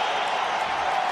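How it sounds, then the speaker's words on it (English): Broad, steady crowd roar fills a baseball stadium during a Brewers–Cubs spring training game, a continuous wash of cheering with no distinct breaks, loud and close throughout. "Crowd coming to life."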